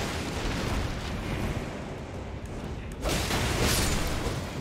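Explosion in Elden Ring at Stormveil Castle: a dense, sustained rumbling roar that swells louder around the three-second mark, with no talk over it.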